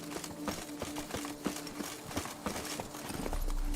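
Roach the horse trots in The Witcher video game, with a steady rhythm of clip-clop hoofbeats on firm ground at moderate distance and a low rumble swelling near the end.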